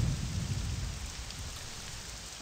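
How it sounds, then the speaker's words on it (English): Steady rain with a low rumble of thunder from a video game, a dense hiss that is loudest at the start and then eases slightly, continuous and alone with no voices. "Oh, thunder."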